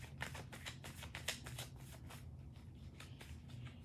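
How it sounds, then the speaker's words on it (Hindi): Tarot cards are shuffled in a quick run of crisp riffling flicks, close and fairly quiet, ending in softer scattered card noise with no talking. "कार्ड्स मेरे जो शफलिंग में काफ़ी प्रॉब्लम्स कर रहे हैं।"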